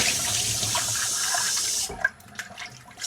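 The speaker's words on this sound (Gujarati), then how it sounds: "આ સાઈડથી ગાઈઝ ગરમ પાણી આવે છે" Hot water runs from a kitchen tap in a steady, close hiss, then cuts off abruptly, leaving a few faint drips and small clinks.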